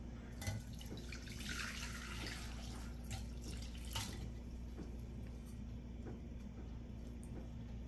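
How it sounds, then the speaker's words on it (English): Water from maypop fruit, with seeds and pulp, is poured through a strainer into a bowl, making a faint, steady trickle and occasional drips under quiet background hiss, with no talking. "pour the water into this bowl so we separate all the meat and seeds from the fruit"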